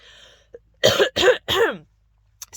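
Three harsh coughs in quick succession, close and loud, after a brief faint sound and before near silence.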